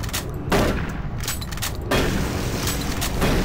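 Gunshots fired at a monster in Doom 3 crack out as a few loud, heavy blasts spaced about a second apart, each followed by a booming, mechanical tail.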